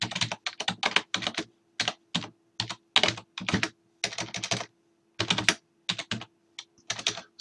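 Typing on a computer keyboard while adding a comment to a Google Drive student assignment: quick bursts of close, crisp key clicks with short pauses, no voices.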